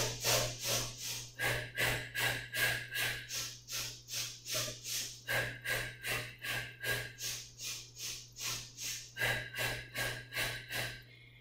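Rhythmic Pilates breathing during the hundreds exercise, steady forceful breaths in sharp repeated pulses about two per second, close and alone over a faint low hum.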